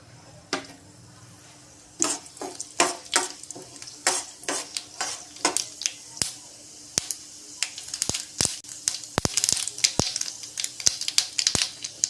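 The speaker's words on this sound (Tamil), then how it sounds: "எண்ணெய் காஞ்சோடனே கடுகு உளுந்தம் பருப்பு," Mustard seeds and urad dal crackle and spit in hot oil in a pan, a dense run of sharp pops and sputters that starts sparse and grows busier and louder toward the end.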